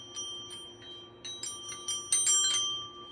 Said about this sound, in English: These are bronze sleigh bells.